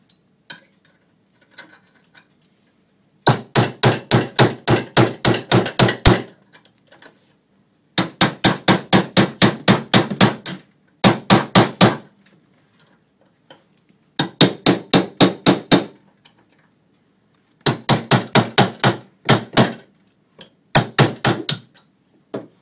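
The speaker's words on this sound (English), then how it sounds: "The second attempt will be with a punch and hammer." Rapid bursts of sharp metallic hammer strikes on a punch against a Cyberlock high-security padlock, repeated in several loud volleys separated by short pauses.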